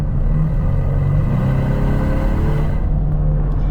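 A 2024 Ford Mustang EcoBoost with a 10-speed transmission accelerating, heard from inside as a loud, steady low engine drone that climbs slightly in pitch and then settles, with no talking.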